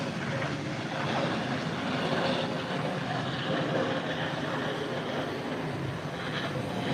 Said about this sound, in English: This Falcon aircraft has just landed.